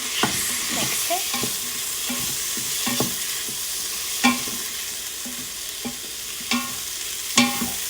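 Red lentil coconut curry soup is stirred in a pot, with rhythmic spoon scrapes and clacks against the metal over a low simmering sizzle, several sharper knocks standing out, and no speech.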